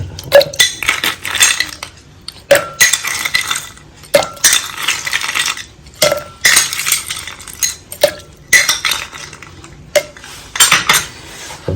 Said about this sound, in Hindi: इसमें बर्फ डाल लें।